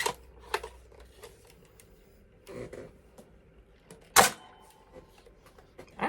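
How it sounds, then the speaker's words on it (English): Sharp plastic clicks and clacks as the bolt of a Nerf Rival Jupiter bolt-action blaster is rotated and worked, a handful of separate close snaps with quiet gaps and one louder crisp clack. "you got to rotate the bolt up."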